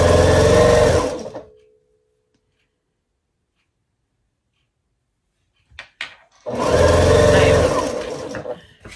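Machine stitching of small quilt scrap pieces in short bursts, a brief run near the start and another toward the end, separated by a long silent gap, fairly loud and close with no talking.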